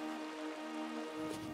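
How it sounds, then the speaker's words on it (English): Rain falls on a farm near a river in North Devon, a faint, steady patter with no talking. "it is raining."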